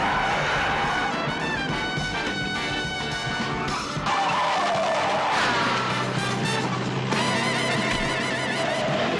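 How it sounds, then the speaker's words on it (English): Ford cars in a film car chase, with loud skidding tires, engine roar and crash-like impacts layered over dense action music throughout. "everyone gets in their Fords and they have a car chase"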